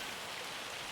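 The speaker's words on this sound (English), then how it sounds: "now it's raining" Steady rain falls in the Farming Simulator video game as a dense, even hiss with no breaks, quiet and continuous.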